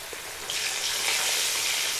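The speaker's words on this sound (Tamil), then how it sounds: "ஸ்டஃப் பண்ணாத லாலிபாப்பை பொரிச்சு எடுக்க போகிறோங்க" Unstuffed chicken lollipops deep-frying in hot oil, a steady broadband sizzle that swells louder after the first half-second and holds close and continuous with no voices.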